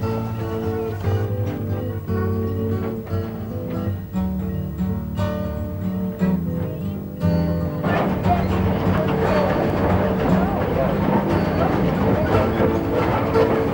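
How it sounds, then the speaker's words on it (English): Train cars rolling over leased tracks on a short-line railroad, with a steady rumbling clickety-clack and creaking that grows denser and louder partway through, with no talk over it. "the clickety-clack of the tracks, the creaking of the cars"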